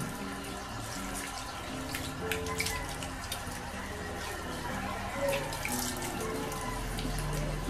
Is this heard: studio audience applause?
no